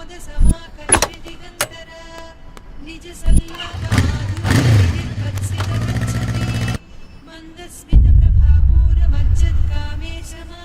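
A motorbike in a Telugu horror thriller film starts up after a few sharp clicks and clunks, then settles into a steady, loud, low idling rumble.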